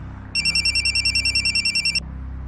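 A telephone rings in a rapid electronic warble, a run of about a dozen quick pulses lasting under two seconds over a low background hum, then cuts off.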